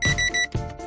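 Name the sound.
microwave oven beeping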